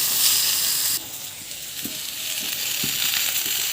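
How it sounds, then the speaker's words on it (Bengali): Chopped curry vegetables for a cauliflower curry fry in a pan with a strong, continuous sizzle, joined by a few sharp scrapes of stirring. "সবজিগুলো সব ভাজা ভাজা হয়ে গেছে।"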